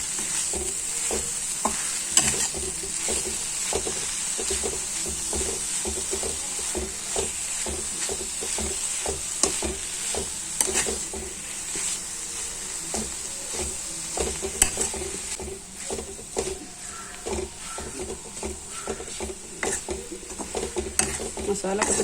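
Clam meat frying in oil with masala in a pan, a continuous sizzle broken by frequent scraping and clinking of a spoon or spatula against the pan as it is stirred, close and fairly constant for the whole stretch.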